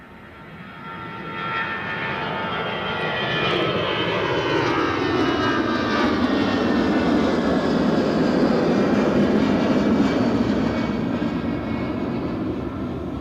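Lufthansa airliner departing Edinburgh Airport for Frankfurt, a steady broadband engine roar that swells and holds loud for over ten seconds with no talk.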